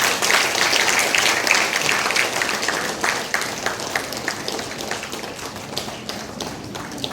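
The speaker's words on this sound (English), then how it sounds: "Let's welcome them with a big round of applause" An audience at an engineering college inauguration claps to welcome guests, loud close applause with sharp individual claps that thins and softens over several seconds.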